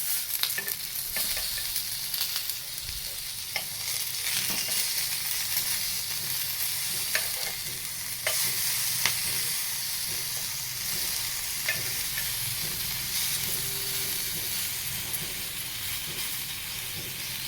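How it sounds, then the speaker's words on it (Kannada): Green chillies shallow-frying in oil in a pan, a steady bright sizzle and hiss with scattered pops and crackles, close and continuous with no talking. "ಇನ್ನು 2 ನಿಮಿಷ ಆದರೆ ಫ್ರೈ ಆಗುತ್ತೆ ಮೆಣಸಿನ್ಕಾಯಿ ಚಟಪಟ."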